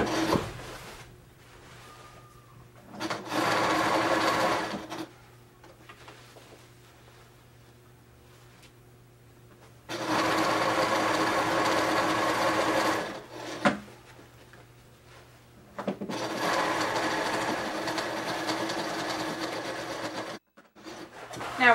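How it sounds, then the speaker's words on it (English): Sewing machine stitching cording on a sofa slipcover, running in three loud, close bursts of rapid needle chatter separated by quieter pauses. "this time we're sewing even closer"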